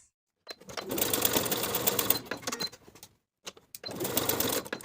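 Sewing machine basting a fabric pocket onto a front pant piece for a woven romper, two loud bursts of rapid stitching, the first about two seconds long, then a pause and short taps before a second run.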